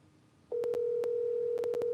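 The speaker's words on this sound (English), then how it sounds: "Let me call this phone number real quick." A telephone dial tone starts after half a second and holds steady while a number is called, with several short clicks breaking through it. No one speaks.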